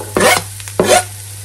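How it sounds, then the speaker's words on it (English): Celery, onions, garlic and carrots in a big stock pan, stirred twice with a short scraping sizzle each time, close up, with a quiet background hum between strokes. "Gonna leave those to sauté for about 5 minutes or so."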